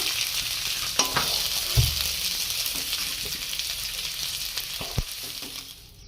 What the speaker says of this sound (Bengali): আলুটা সোনালি রঙের রং করে ভেজে নিয়েছি।